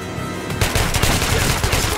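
Sustained close gunfire in Metro Last Light rattles on continuously for about a second and a half, loud and dense, after a brief quieter lead-in.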